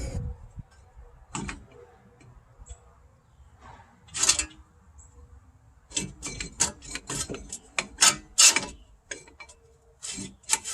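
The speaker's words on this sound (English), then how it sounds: "Now I'm going to take the brake caliper off" A wrench works on a car brake caliper during removal, giving scattered metallic clicks, ratcheting ticks and scraping rubs, close and intermittent with quiet gaps, busier toward the end.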